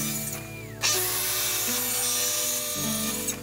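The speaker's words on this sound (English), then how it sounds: "I'm going to cut it down with the TS75" A Festool TS75 track saw whines steadily and loudly, its pitch shifting slightly as the blade cuts through an epoxy river tabletop, with a continuous mechanical drone underneath.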